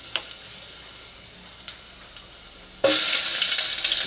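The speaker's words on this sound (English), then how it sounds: "you're going to fry your garlic" Garlic fries in hot oil in a pot. A few faint ticks come first, then a sudden loud, close sizzle bursts in and keeps going strong.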